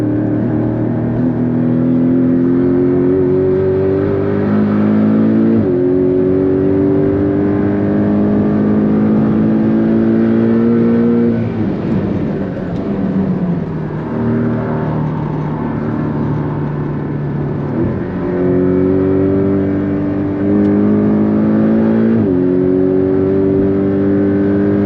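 Porsche Cayman 718 GTS engine driven hard on the Nürburgring, a loud continuous in-car roar rising in pitch through each gear and dropping at upshifts, repeated pulls over about 25 seconds with no talking.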